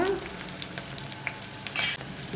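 Ingredients fry in a pan for a ridge gourd pulusu, giving a steady close sizzle with crackling pops and brief stirring scrapes throughout.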